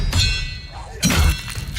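A disarming spell cast in a fantasy wizard combat game lands with a heavy thud and a crackling burst, with a second impact following about a second later, both loud and close over a low rumbling game backdrop.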